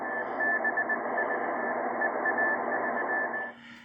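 An amateur radio signal on the 10-meter band comes through steadily with a thin whistling tone and hiss, holding for a few seconds before abruptly cutting out.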